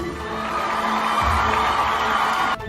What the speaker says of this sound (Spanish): Aplausos para nuestro presidente Díaz-Canel, que se encuentra aquí.